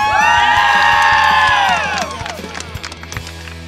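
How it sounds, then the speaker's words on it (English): A small group of cross country runners cheers together in a loud, close burst of shouts and whoops, then the voices fade into scattered chatter and footsteps. "I think this calls for a cheer."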